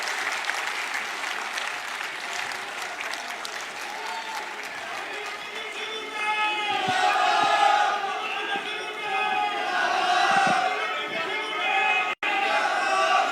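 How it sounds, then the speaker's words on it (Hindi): A rally crowd at a panchayati raj rally in Tohana, Fatehabad claps and cheers steadily to welcome Hooda, with whistles and shouts rising over dense applause and a brief cut near the end. "हुड्डा साहब का तालियां बजा के स्वागत करो।"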